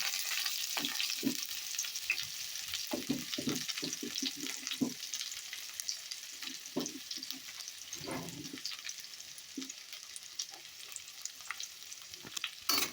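Onion fries in oil over a tempering of black cumin, cumin and dried red chilli, giving a steady sizzle throughout. Repeated scraping and stirring knocks from a spatula against the pan sit over it.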